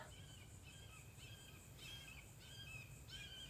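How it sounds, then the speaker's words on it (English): A hawk calling outdoors: a short series of faint, high calls repeats about every half second against a quiet outdoor background. "Do you hear Hawk?"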